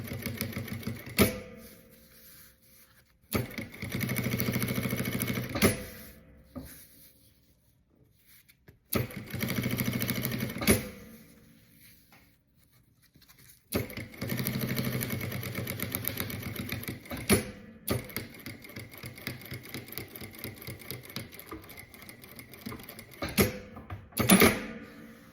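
Sewing machine stitching a zipper onto a bag, running in several loud bursts of rapid stitching separated by short pauses, with brief backstitches at the start and end of the seam.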